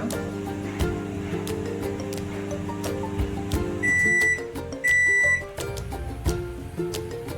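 An LG microwave oven cooking raw peanuts hums steadily at close range, with small crackles and pops over the drone, then gives two long electronic beeps near the end.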